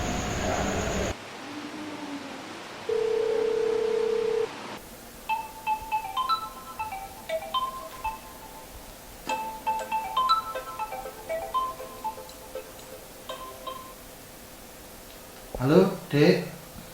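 A telephone rings at a steady pitch for a couple of seconds, followed by a bright electronic melodic tone sequence, quiet and a little distant, with talking in the background.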